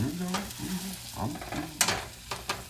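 Spinach fries in a non-stick skillet in a cell kitchen, a close, busy sizzle with a few sharp crackles and spatters standing out over the steady hiss.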